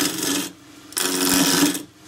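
A deep fluted 2-inch gouge cuts a square wood spindle blank on a lathe, giving two rasping, scraping passes close by, separated by a short quiet gap.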